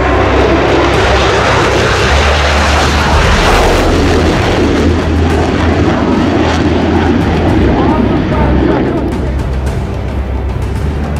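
A loud aircraft roars through a flying display by the Royal Air Force aerobatic team at the Royal International Air Tattoo, a sustained engine rumble that swells and fades slightly, with an announcer talking over it.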